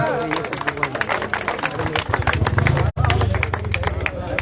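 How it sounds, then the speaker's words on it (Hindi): A crowd applauds loudly and steadily at a welcome ceremony for a square's unveiling, with dense clapping that continues and briefly cuts out once, while voices talk over it. "जयराम दास जी माखीजा स्मृति बिंद देकर के स्वागत करें जोरदार तालियों के साथ।"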